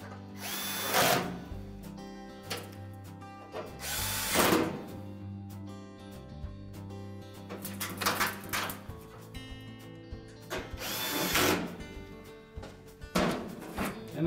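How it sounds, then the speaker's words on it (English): A power drill whirs in several short bursts, driving retaining screws into a KitchenAid wall oven, with quiet gaps and small clunks between the runs. "And again, reinstall the retaining screws."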